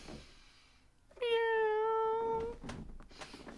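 A cat meows once in a long, clear, drawn-out call that rises and holds before fading, loud and close, with faint background noise around it, played as an alert during a live stream.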